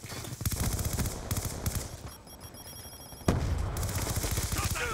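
Rapid bursts of automatic gunfire crackle in quick succession, pausing briefly before another loud volley, with game-like effects mixed in, in Call of Duty: Black Ops 2.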